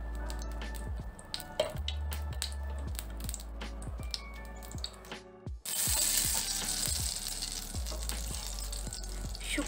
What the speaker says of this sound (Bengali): ঘি দিচ্ছি